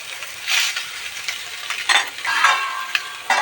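Bhangda mackerel slices frying in a pan over low gas with little oil, a steady close sizzle with crackling bursts and spatter throughout, no voices.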